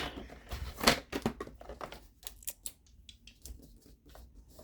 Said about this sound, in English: I'm going to cut about 1/4 of an inch off.